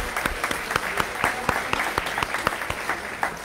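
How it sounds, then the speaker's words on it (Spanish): A church congregation applauds couples celebrating wedding anniversaries, a steady, dense patter of many hands with a few sharper, nearer claps standing out, and no talking. "Vamos a darles un fuerte aplauso a los que cumplen años de aniversario matrimonial."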